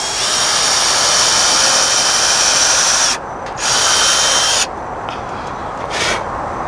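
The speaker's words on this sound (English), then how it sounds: "So we'll go ahead and make that pilot hole." A power drill bores a pilot hole in wood while a compost bin is being built, a loud steady whine running in two long bursts with short pauses and a brief final spurt.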